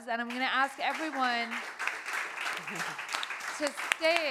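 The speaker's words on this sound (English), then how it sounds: "I want to give you all a round of applause" An audience at a panel discussion applauds in a moderate, rustling patter beneath a voice, which speaks over the clapping for most of its length.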